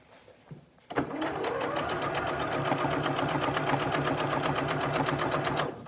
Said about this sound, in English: and just sew straight across the V.